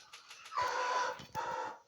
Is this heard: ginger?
no